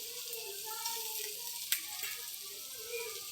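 Green peas tipped into a pan of lightly fried potatoes, with a steady hiss of sizzling oil and one brief sharp crackle midway.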